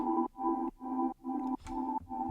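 A soft synth pad built from a bell tone pulses in repeated sustained chords with short gaps, mellow and steady in the background.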